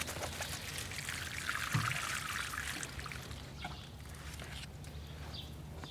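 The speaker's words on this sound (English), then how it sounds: "And water that in a little." Water is poured onto the soil of a fig tree air layer, a soft trickling and splashing pour that swells briefly and then settles into a quieter dribble over a steady background.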